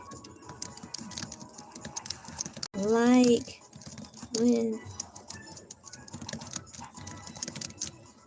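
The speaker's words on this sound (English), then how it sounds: "I'm typing something right now" Rapid keyboard typing clatters on a computer keyboard, close and fairly quiet, running under intermittent talk from a voice.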